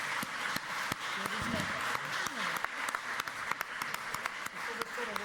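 Scattered hand claps from an audience at a round-table event on the Sicilian language, soft and sparse, mixed with a voice talking.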